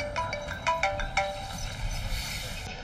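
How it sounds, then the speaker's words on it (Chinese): A phone ringtone for an incoming call plays as a bright, repeating electronic chime pattern over a low background hum, fairly close and clear, stopping abruptly near the end. "接个电话。"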